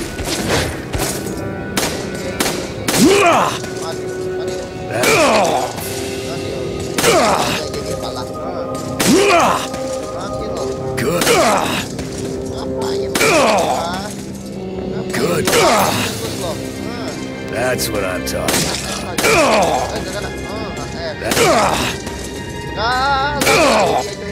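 Repeated shotgun blasts in the video game Resident Evil 4, loud sharp reports every couple of seconds over a game soundscape, with players talking throughout.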